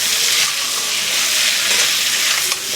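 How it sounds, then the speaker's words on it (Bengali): Masala with chopped tomatoes fries loudly in a pan for a vegetarian potato and pointed gourd curry, a dense continuous sizzle with faint stirring, close and with no talk. "এবার আমি খুব ভালো করে মশলাটা কষিয়ে নেব।"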